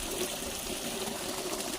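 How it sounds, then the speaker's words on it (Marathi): Borewell water flows out in summer in a steady, continuous rush that is loud and near, with no pauses or voices. "एवढं असं बोरचं पाणी चालतंय"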